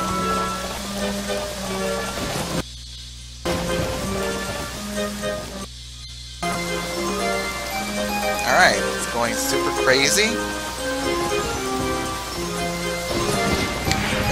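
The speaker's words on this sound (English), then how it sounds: "We're gonna make it rain." Steady rainfall hissing under music in The Legend of Zelda: Ocarina of Time, with a voice speaking briefly; the rain cuts out twice for a moment before resuming.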